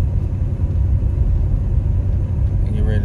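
An idling, previously dieseling car engine runs with a steady low rumble while being driven slowly around a park, continuous and close throughout.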